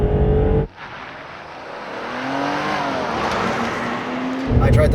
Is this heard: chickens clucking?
no